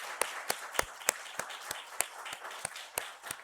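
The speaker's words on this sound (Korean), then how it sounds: "감사의 박수, 격려의 박수입니다." Applause from a church congregation during a Sunday morning worship service, a steady patter of many hands clapping in thanks and encouragement, moderately distant with sharper individual claps standing out, no talking.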